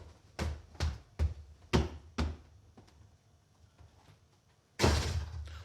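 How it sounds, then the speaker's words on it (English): Stage door sounds during a community theatre farce: a series of sharp knocks or thuds in an uneven rhythm, then a louder wooden bang near the end, close and fairly loud in an indoor hall, with no talking. "A door."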